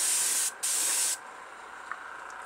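Two short bursts of hissing spray from a Testors Aztek airbrush laying acrylic paint onto a model car body, close and fairly loud, separated by a brief gap and followed by quiet.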